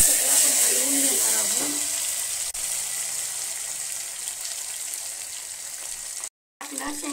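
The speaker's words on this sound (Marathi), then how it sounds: "मिरची टाकली, बटाटा टाकला, जिरं टाकलं, हे सगळं आता आपलं परतून झालेलं आहे तुपामध्ये" Potato, peanuts, green chilli and cumin sizzle in ghee in a pan, a steady close frying hiss with faint stirring and a brief cutout near the end, while a person talks over it.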